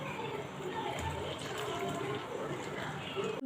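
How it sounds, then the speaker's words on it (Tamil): Water being poured into a wheat flour batter seasoned with chili powder for adai, a continuous close splashing, trickling flow that runs throughout the brief stretch. "இப்போ நம்ம தேவையான அளவு தண்ணி ஊற்றிக்கலாம்."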